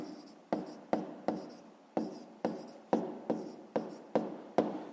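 A pen scratching out an answer in a fifth-grade maths exercise: a steady run of short, close, dry strokes at an even pace, quiet and alone, with no voices.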